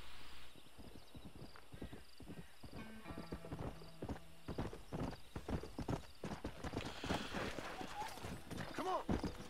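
Steady hoof clip-clop from a horse in Red Dead Redemption 2, close and rhythmic, with a brief whinny and someone talking over it.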